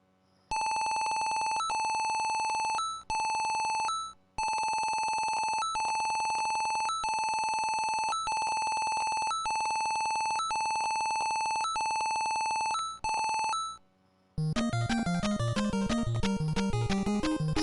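Repeated electronic telephone rings from the NES game Chip 'N Dale Rescue Rangers, bright chiming bursts with brief gaps, loud and alone, then switching to chiptune game music near the end.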